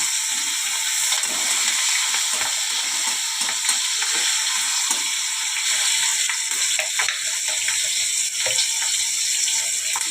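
Chopped tomato and green chillies fry in a pan for vegetable dal, giving a steady, dense sizzle that holds for about ten seconds with faint scraping stirs and no voices.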